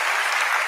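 Continuous crowd applause at a book event forms a dense, even wash of many hands clapping, steady and moderately loud throughout.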